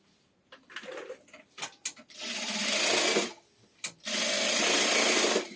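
A sewing machine stitches fabric scraps together for a scrap-fabric wastebasket. Two sustained bursts of steady stitching are separated by a pause with small handling clicks.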